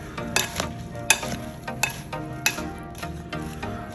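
Raw shrimp being tossed in Tajin seasoning in a bowl, giving a series of wet, scraping clatters in an irregular rhythm, close and fairly loud with no talk.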